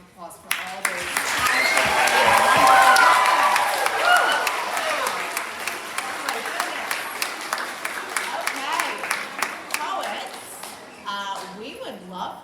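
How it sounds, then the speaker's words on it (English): Audience applause at a poetry slam, a crowd clapping warmly that swells and then thins to scattered individual claps before fading out. "how about a round of applause for all those"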